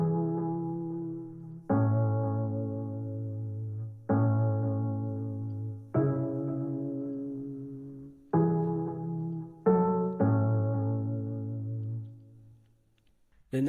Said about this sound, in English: this sound is from Octuria Augmented Strings.